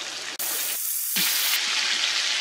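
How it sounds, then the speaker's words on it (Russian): Egg-dipped chicken breast rolls sizzle in a frying pan, a close, steady crackling hiss that briefly dips and shifts as they are turned over. "Поджариваем до румяной корочки и переворачиваем"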